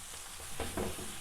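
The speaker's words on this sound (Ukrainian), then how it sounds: "Даємо йому трошки посмажитися. Так, досмажуємо брокколі" Broccoli frying in a pan with butter and olive oil, a soft steady sizzle with a brief stirring scrape midway, close and alone without talk.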